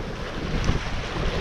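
Waves wash along the shore of Lake Ontario in a continuous broad rush, mixed with wind buffeting the microphone, with no voices.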